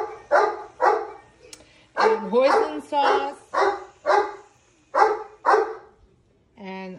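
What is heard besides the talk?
dog barking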